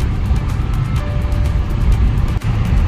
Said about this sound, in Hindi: वहां से देखो कितनी सारी गाड़ियां आ रही हैं